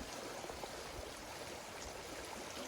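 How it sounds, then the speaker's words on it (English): Lick Creek on the Appalachian Trail, running fast and mid-calf deep where a bridge is out, makes a continuous soft rushing wash that stays even throughout, with no voices. "this is Lick Creek"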